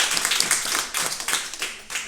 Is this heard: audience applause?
yes